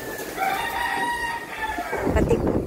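A rooster's long crow rings out during a typhoon evacuation, followed by clucking and shuffling noise as the birds are moved, over a constant wash of wind and rain.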